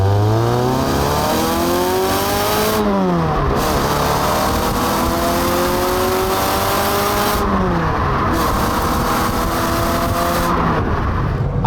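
A Peugeot 306 GTI-6 engine revs and pulls through the gears while driving, rising in pitch, dropping at each shift, then climbing again, loud and continuous with no talking.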